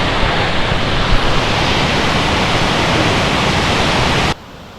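Rushing water from a waterfall near Pemberton, Western Australia, makes a loud, steady broadband roar that cuts off abruptly just before the end.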